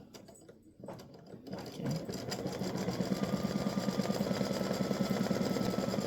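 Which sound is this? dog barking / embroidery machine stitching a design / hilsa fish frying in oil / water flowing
embroidery machine stitching a design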